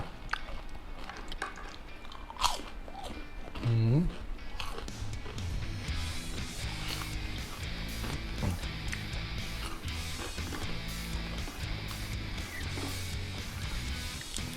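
Crispy fried chicken skin is bitten and chewed up close, with repeated crunchy bites and wet chewing that continue in an irregular rhythm.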